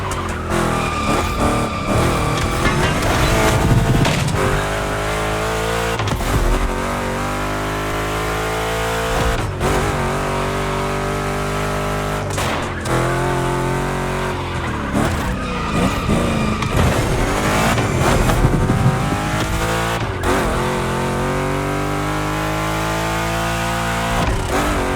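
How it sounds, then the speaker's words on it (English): Two big-block Chevrolet cars race through a gymkhana course in The Crew Motorfest, engines revving and shifting repeatedly while tires squeal and skid through turns in a continuous, energetic stretch. "2 Chevys, 2 big blocks, but only 1 winner."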